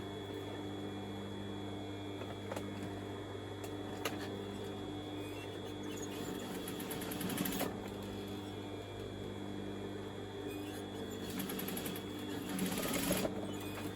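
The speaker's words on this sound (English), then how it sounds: "Pull it up, going to stitch this down." A sewing machine stitching down a fabric scrunchie, running in a steady mechanical whir with a constant hum beneath, rising in short faster bursts near the middle and end.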